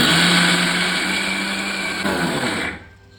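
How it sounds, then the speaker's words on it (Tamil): A mixer grinder pulses soaked chana dal lentils for vadai, a loud close whirring motor that runs steadily, dips briefly, then cuts off and spins down at the end. "இப்போ நான் போட்டுட்டு ஒரு 2-3 டைம் பல்ஸ் பண்ணி நான் டெக்ஸ்சர் செக் பண்ணிக்கிறேன்"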